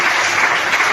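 Steady, dense applause from a church congregation fills the moment, a continuous wash of clapping with no break across the second.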